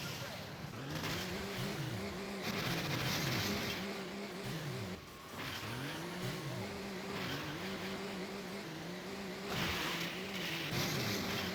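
Monster trucks roar through an arcade demolition derby video game, engines revving up and dropping back in repeated swooping cycles, loud and continuous with crashes and rumble underneath.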